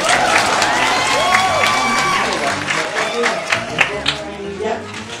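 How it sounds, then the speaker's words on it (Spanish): An audience at a children's clown show claps and cheers loudly with excited shouts. The applause sustains and then fades as a performer talks over it. "¡Un aplauso a la princesa!"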